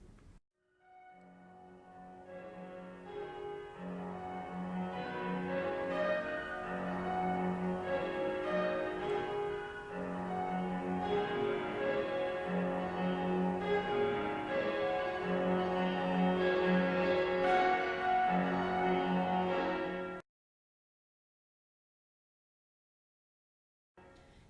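Piano chords ring out in heavy, resonant repeated strokes, imitating Ukrainian church bells with rich overtones, in a Vasyl Barvinsky variation, sustained for about twenty seconds before cutting to silence.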